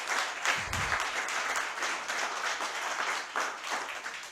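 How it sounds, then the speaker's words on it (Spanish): Audience applause for poets at an international poetry festival evening in Santo Domingo, sustained clapping from a sizable crowd with a brief low thump early on and slight swells in intensity. "pedirle otro aplauso para ellos"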